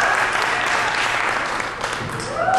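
An audience gives a round of applause for a singer, dense and continuous clapping filling the whole moment at a steady level.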